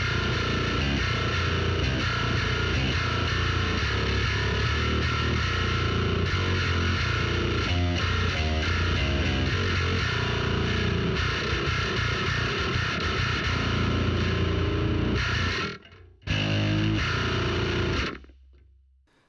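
A Dingwall NG2 bass played through an Axe FX pours out a dense, aggressive distorted metal tone, clanky and grinding, in continuous loud riffing that breaks briefly and then stops near the end.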